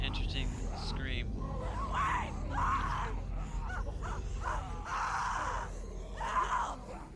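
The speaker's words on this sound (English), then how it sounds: "She has an interesting scream." In The Walking Dead video game, a woman screams in repeated strained, raspy bursts, with short gaps and groaning between them, heard under a low rumbling game background.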